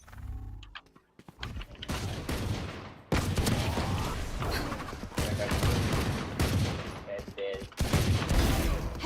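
Gunfire from a professional Valorant esports match, with dense rapid bursts of shots and volleys repeating almost continuously, loud and close, with brief pauses between exchanges.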